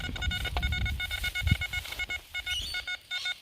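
An XP ORX metal detector sounds off over buried brass rivets at an old miners camp in Australia, giving a run of rough, stepped electronic tones that repeat in short bursts with digging noise and thumps underneath.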